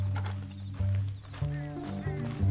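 A horse in Red Dead Redemption 2 snorts and whinnies with low rumbling breaths and soft hoof sounds, close and fairly quiet, under faint background noise.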